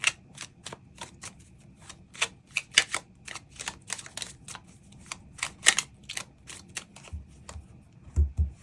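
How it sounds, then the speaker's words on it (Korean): Tarot cards being shuffled and drawn, a long run of crisp snapping and riffling clicks in uneven rhythm, close and clear over a quiet low background, with a couple of soft thumps near the end. "추가 카드 뽑아보도록 하겠습니다"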